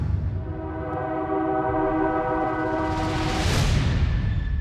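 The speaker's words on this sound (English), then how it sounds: "Freight Train." A freight train rumbles past with sustained blasts of its horn, loud and close, the horn fading as the rolling rumble swells toward the end.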